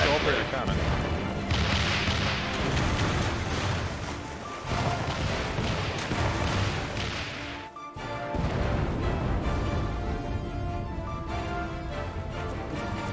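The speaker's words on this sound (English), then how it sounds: "A lot of cannons." Heavy cannon fire booms in Final Fantasy XIV: Stormblood amid a dense, chaotic din of battle, with voices talking over the continuous roar.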